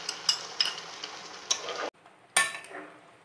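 Water is poured into a pan of frying chicken curry with poppy seed, with sharp hissing sizzles and clinks of a bowl at the pan, several quick bursts, then a brief silence before a final loud sizzle.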